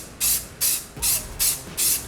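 Light gray spray paint hisses from an aerosol can in five short, even bursts, each loud and close, separated by brief pauses.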